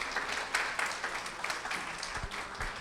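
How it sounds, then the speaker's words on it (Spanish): A Spanish-speaking church congregation breaks into welcoming applause for a visitor, a continuous patter of many hands at moderate volume with a few low thumps. "Vamos a darle un fuerte aplauso."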